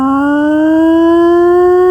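Hand-cranked siren at a public swimming pool, used for buddy calls, winds up in a loud, steady rising wail that keeps climbing in pitch, with no voices.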